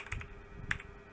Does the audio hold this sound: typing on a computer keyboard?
yes